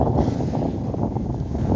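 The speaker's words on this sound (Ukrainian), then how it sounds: "тут дуже сильний вітер" Strong wind on a ski slope roars and buffets against the microphone in a constant low rumble, loud and unbroken.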